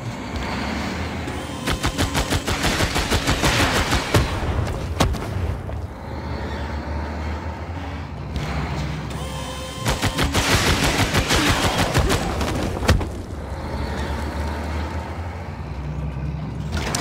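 Rapid bursts of automatic gunfire and heavy booming shots from units in Civilization VI, loud and dense, coming in two long volleys with a short lull between them, no talking.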